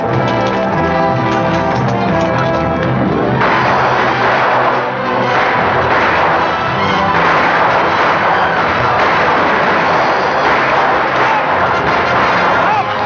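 Battle gunfire from a 1940 Western film, muffled rifle shots and booming reports crowd a dense, loud mix of shouting voices, hoofbeats and orchestral score, with no single shot standing clearly apart.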